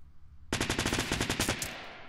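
An SMG fires in the Fortnite video game, a rapid burst of about fifteen crisp shots in quick rhythm, loud and close, starting abruptly after a quiet moment and trailing off briefly.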